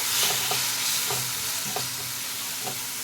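Ground cumin and coriander masala sizzles in a pan with a little water while a spoon stirs it, leaving steady frying hiss broken by regular scraping strokes about every half second.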